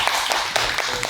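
An audience at a summer-vacation children's history book concert claps for the children, a brief burst of dense, steady applause at moderate distance.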